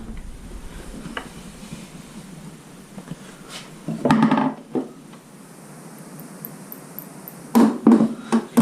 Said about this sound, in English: If I had a hammer, which is right here, so I'll nail that in.